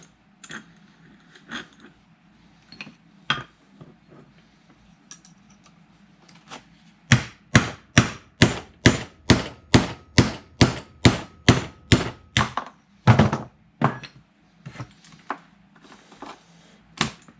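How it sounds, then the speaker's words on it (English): Repeated metal hammer blows driving a pin into the clutch pulley of a 2 1/2 HP Famous IHC hit-and-miss engine, first a few scattered taps, then a fast, steady run of about fifteen loud strikes, ending with a few heavier hits. "Hammering on this"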